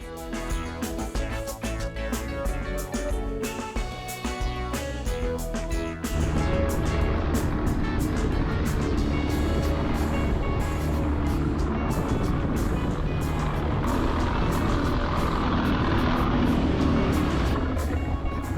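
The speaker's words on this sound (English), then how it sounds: "The engine isn't sounding too healthy at this point" An ailing boat engine pushing off from a harbor near Coki Point Beach runs roughly, a loud, dense mechanical drone with shifting tones that grows heavier partway through and carries on without pause; no one speaks.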